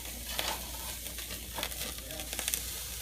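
Steaks sizzling over high heat on the cast iron cooking grids of a Broil King Porta-Chef tailgating grill, a steady close crackling hiss with scattered pops and spits.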